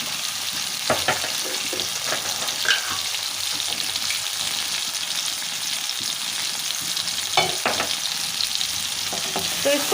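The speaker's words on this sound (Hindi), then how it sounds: "तो इसको थोड़ा सा हमें इसमें भून लेना है तब तक, जबकि इसमें टमाटर थोड़े से मैशी हो जाएंगे।" Tomatoes with salt fry in a pan for palak sabzi, producing a steady close sizzle with occasional louder crackles and pops and light stirring scrapes, no voices over it.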